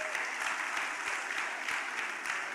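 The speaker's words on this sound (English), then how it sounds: "Let's give them a round of applause." At a senior nursing and midwifery managers conference, a hall audience keeps up soft, steady applause, somewhat distant and quiet, with a few individual claps faintly standing out.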